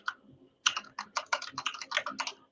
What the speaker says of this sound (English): forgive my slow typing skills here